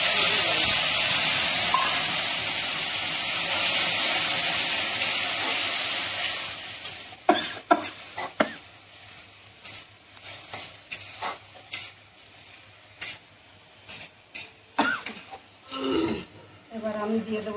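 Green chilies, a small onion, cumin, coriander and four or five garlic cloves frying in hot oil for a tomato dal: a loud, steady sizzle that fades, then repeated spoon scrapes and clicks as the pan is stirred.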